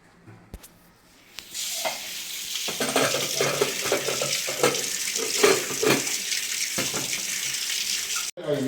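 A kitchen tap runs water for cooking rice, a steady rushing hiss that starts after a quiet moment and continues evenly, cutting off briefly near the end.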